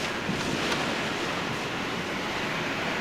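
Hurricane Katrina storm waves surging against a house in Slidell, Louisiana: a steady, loud roar of surf and wind that fills the whole stretch with no break and no talk.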